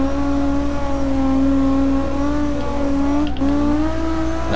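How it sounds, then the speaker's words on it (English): A drift car's engine revs steadily and loudly at sustained high rpm, with a brief dip in pitch near the end before climbing again, close and continuous throughout. "I'm barely drifting this car."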